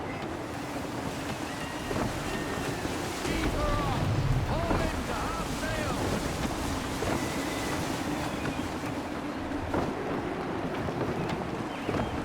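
Gusty wind blows over open sea aboard a sailing ship in Assassin's Creed 3 Remastered. Loud, steady wind and surf roar throughout, with creaks and occasional shouts mixed in.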